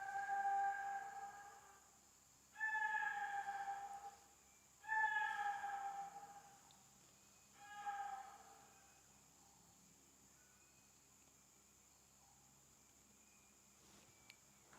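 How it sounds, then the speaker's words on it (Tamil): Deer calling at night in Bandipur forest: three loud, drawn-out harsh calls a few seconds apart, then quieter, against a steady high insect drone in an otherwise silent night. "இந்த பக்கம் ஃபுல்லாக மான் கத்துற சத்தம்"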